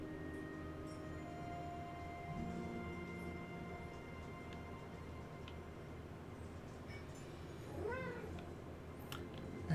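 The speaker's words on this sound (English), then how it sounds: "I heard the kitty." A cat in Marvel's Midnight Suns gives a single rising-and-falling meow near the end, heard over a steady low game ambience with faint tonal background.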